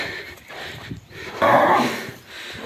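A mare, a draft horse, gives a short, rough whinny partway through, heard close over a noisy outdoor background.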